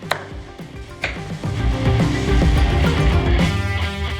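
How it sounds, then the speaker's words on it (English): Kitchen knife roughly chopping ingredients into small pieces for Korean kogo made with chili beef sausages, a few separate early knocks on the board giving way to steady, dense cutting close by. "I'm going to roughly chop these up into little pieces"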